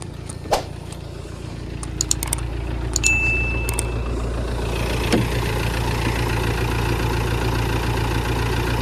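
An Audi A4 TDI Quattro diesel engine idles steadily with a low, even rumble, heard alone at moderate distance with a few faint metallic clicks and jingles near the start.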